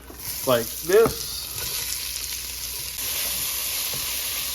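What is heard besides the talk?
onions and peppers sizzling in a frying pan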